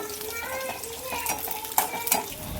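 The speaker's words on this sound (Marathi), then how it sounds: "मिरच्या थोड्याशा भाजल्यानंतर त्याच्यामध्ये आपल्याला शेंगदाणा टाकून थोडंसं भाजून घ्यायचं आहे" Peanuts and green chillies roast in hot oil in a pan, with a steady close sizzle under repeated stirring scrapes and a few sharp clinks of the spoon against the pan.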